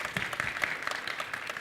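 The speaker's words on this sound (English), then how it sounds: "Give them a round of applause." A convention audience at a historical armored combat showcase gives brief, fairly faint applause. The clapping is even and sustained over the short stretch, heard from a distance.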